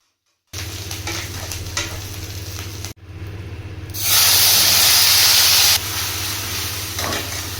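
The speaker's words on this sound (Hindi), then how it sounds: "ये यहाँ पे मैं लगा रही हूँ तड़का सब्जी में, सारे मसाले और प्याज, फिर गार्लिक जिंजर" Food sizzles in a hot pan, steady at first, then a loud burst of hissing as spices, onion, garlic and ginger hit the oil for a vegetable tempering before settling into frying.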